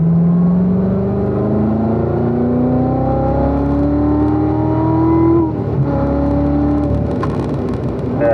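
A race car engine revs steadily upward through the gears on a track, a loud, close whine that climbs in pitch, dips at a shift, then rises again.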